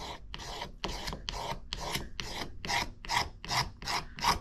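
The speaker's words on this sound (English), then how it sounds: "I'm going to use this shaver. This is hardwood." Rhythmic rasping strokes of a wood shaver's blade shaping hardwood for a Martin D-35 guitar bridge, about eleven even back-and-forth scrapes, close and steady with no talking.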